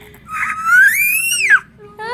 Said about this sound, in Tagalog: Sigaw ang gusto eh. Sigaw.